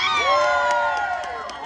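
A street crowd at a New Orleans street performance lets out a sustained cheer and whoops, loud and close, with shouting voices layered over one another for a couple of seconds before fading slightly.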